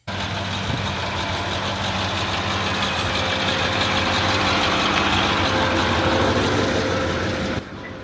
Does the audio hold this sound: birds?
no